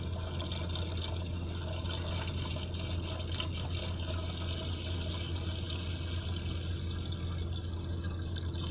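Tap water pours from a container into a car's windscreen washer reservoir, a steady close trickling and gurgling over a constant low hum.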